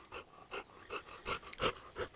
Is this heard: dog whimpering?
yes